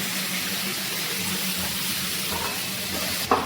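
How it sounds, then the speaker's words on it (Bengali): Paneer frying lightly in mustard oil in a wok, a steady close broadband sizzle and hiss running throughout with no voices, ending in a brief clatter. "দেখো কড়াইতে সর্ষের তেল দিয়েছি, আর পনিরগুলোকে আমি হালকা করে একটু ভেজে নেব।"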